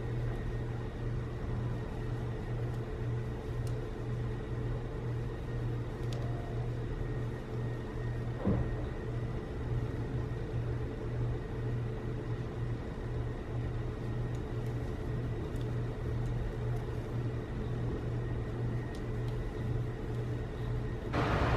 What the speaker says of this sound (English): I apologize if you hear noise in the background, but it was getting pretty hot in here, so I had to turn on my air conditioning.